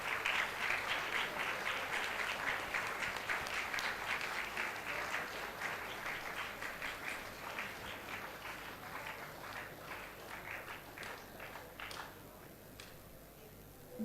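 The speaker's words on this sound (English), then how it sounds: "A big round of applause for the official release of 6th IEEE International Conference proceedings" Sustained audience applause at the ICSCAN 2024 IEEE international conference, marking the official release of its proceedings; steady, moderately distant clapping that thins slightly toward the end.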